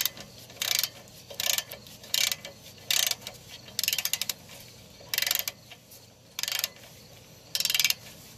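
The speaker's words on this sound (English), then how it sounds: "15 millimeter socket on the nut and break it free" A 15 mm socket wrench ratchets to break a nut free while a power steering rack is removed from a 2007-or-newer Volvo S40. Short, evenly spaced bursts of rapid clicking repeat about eight times, close and clear, with no talking.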